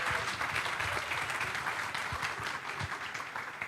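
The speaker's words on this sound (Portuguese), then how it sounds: "pode dar uma salva de palmas aqui para recebê-la?" An audience applauds at a morning plenary session, with dense, steady clapping that holds at an even level throughout, fairly distant and filling the room.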